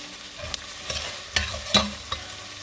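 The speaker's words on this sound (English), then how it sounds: "we will add a pinch of salt because that helps our onion to saute well and quick" Onion sautés in a pan with a pinch of salt, giving a low background sizzle broken by several distinct spatula scrapes and taps at an uneven pace.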